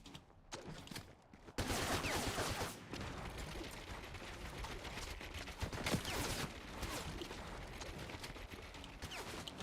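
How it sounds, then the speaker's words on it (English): Gunfire in Fortnite, Chapter 7 Season 2: a dense run of rapid shots and bursts with mechanical clatter, loud and continuous after a brief quieter opening. "Somebody's shooting me from over here."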